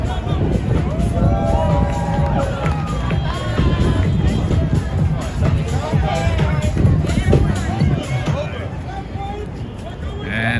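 A busy street crowd in Manhattan, New York City, keeps up a loud, constant babble of many voices mixed with traffic rumble and scattered calls nearby.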